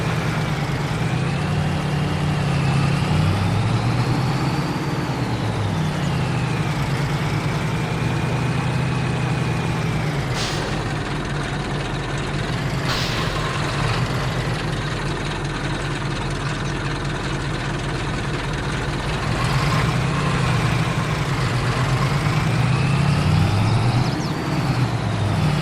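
A truck's engine drones steadily and loudly in Farming Simulator 22, a deep continuous rumble with gear-like pitch rises and falls as it drives along a road, with no talking.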